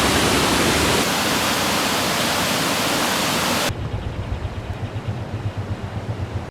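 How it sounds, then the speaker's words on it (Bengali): Fast river current roaring below a bridge in Kathmandu, a loud, dense wash of rushing water that drops abruptly to a quieter, rumbling flow partway through. "এই জায়গাটা থেকে নদীর খুব ভালো একটা ভিউ আমরা দেখতে পাচ্ছিলাম, আর এত স্রোত ছিল যে বলার বাইরে"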